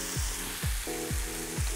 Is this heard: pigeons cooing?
no